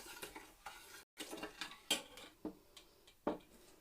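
Spoon stirring red currant syrup in a pot, with quiet scraping, clinks and knocks against the pot in an irregular rhythm, faint and close.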